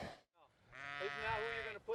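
A single faint, drawn-out sheep bleat is heard on a family farm. It wavers and rises before it fades, and another short cry starts at the end.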